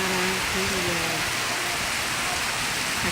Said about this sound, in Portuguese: que chuva maravilhosa